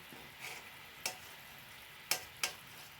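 Jaggery syrup for a tender coconut payasam reducing in a pan, a faint quiet simmer broken by a few sharp scraping strokes of a stirring spoon, with no talk.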